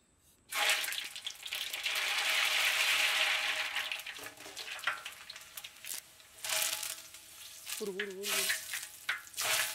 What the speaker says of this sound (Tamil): இப்போ கடுகு போட்டுக்கலாம் பட்டை மிளகாய் சேர்த்துக்கலாம் கருவேப்பில் போட்டு எல்லாத்தையும் சேர்த்து தாளிச்சிக்கலாம்